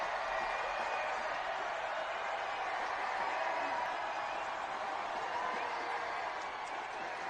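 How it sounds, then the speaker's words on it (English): Women's soccer stadium crowd roaring after a goal, a steady wall of distant cheering and noise that holds throughout, with a commentator's voice talking over it. "this crowd is absolutely loving that strike"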